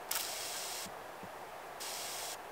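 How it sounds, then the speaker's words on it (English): A pump spray nozzle on an off-road SUV camper puffs out mist in hissing bursts: a quick spurt, a long spray, then a short one, close and clear. "So it'll spray a mist"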